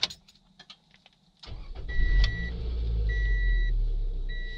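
A 2012 Scion xB is started. Light clicks and a few short chimes come first, then the starter catches and the engine settles into a steady, close idle while warning beeps repeat over it.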